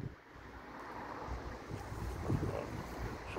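Wind gusting across the microphone on an island coast, a steady low rumble and buffeting that swells louder toward the end, with a wash like distant surf beneath it.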